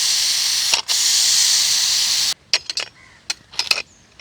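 Loud, continuous steam hisses from a pressure cooker in which a Kerala-style duck roast is cooking, then cuts off abruptly and leaves scattered clicks and clanks.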